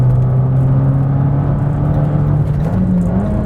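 Fiat 500 Abarth engine and exhaust heard from inside the cabin while driving, a loud steady drone with a firm low tone that lifts slightly in pitch near the end, with no talking.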